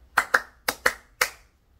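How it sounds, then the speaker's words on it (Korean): Five sharp, separate hand claps in an uneven rhythm inside a church, close and crisp with quick decay, followed by quiet. "우리 하나님께 영광의 박수 돌려드립니다."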